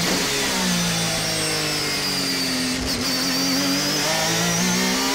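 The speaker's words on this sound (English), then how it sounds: "The car was turning into the corner with much sharpness and accelerating out with great traction." An ARTA Honda NSX race car accelerating hard out of a corner on the Tsukuba circuit during a time attack, its engine note climbing steadily through the revs, loud and close, with a brief gear change partway through.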